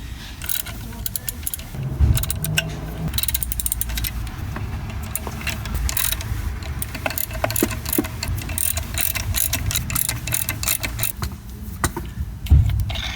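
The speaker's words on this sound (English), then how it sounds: "Snug them up, and then you have to tighten them up evenly." A ratchet clicks in quick bursts as it tightens the clutch pressure plate bolts on a BMW E46 with a solid flywheel, with metallic tool clatter close by in a workshop and no talking.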